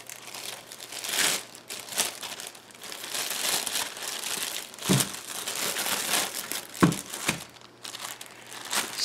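Plastic vacuum-sealer bag crinkles and rustles close up in bursts as cheese is slipped inside, with several sharper crackles among steadier handling noise.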